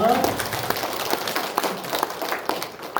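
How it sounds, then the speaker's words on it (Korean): Brief applause from a Sunday morning church congregation offering praise, a soft, scattered patter of hands with a faint voice mixed in, tapering off after a few seconds. "우리 하나님 앞에 영광의 박수 올려드리겠습니다"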